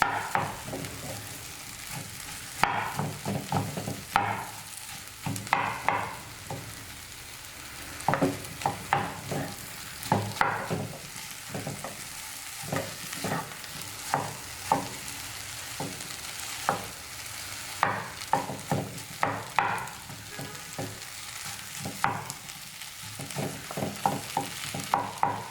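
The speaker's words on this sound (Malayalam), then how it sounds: "ഈ മസാലയും കപ്പയും കൂടി നന്നായിട്ട് കമ്പൈൻ ചെയ്തെടുക്കണം." Tapioca is stirred with egg masala in a hot pan, giving a continuous soft sizzle of frying. Irregular scraping and clacking strokes of a spatula come through close and clear, with no talking.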